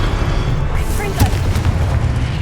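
Confringo explosive spell from Hogwarts Legacy, a single booming blast with crackling burst over a steady low game rumble.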